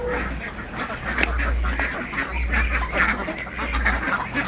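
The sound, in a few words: ducks quacking at a roadside duck farm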